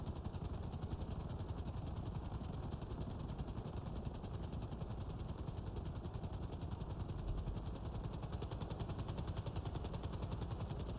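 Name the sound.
helicopter in GTA Online video game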